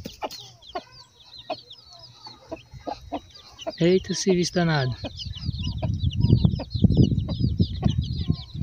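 A hen clucks and squawks after a tegu lizard bit her tail in a farmyard, sharp distressed calls mixed with rooster-like cries, close and loud, with a person speaking briefly over it.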